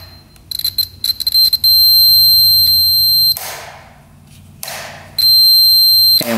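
Sharp electronic beeps sound as the kill switch wires on a snowmobile connect, first as a rapid stutter of short chirps, then as long steady tones broken by a couple of loud thumps.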